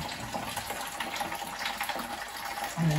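Water drains steadily from a Rayburn Royal heat exchanger system during servicing, a continuous gushing hiss that holds through the whole stretch with a faint low hum near the end.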